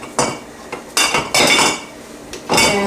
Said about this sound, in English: And then we're just gonna stir it